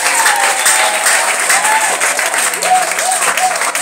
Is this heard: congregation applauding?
yes